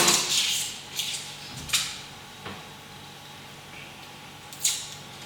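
A kitchen knife slicing a peeled onion in half on a board, a few short crisp cuts and taps heard close and alone.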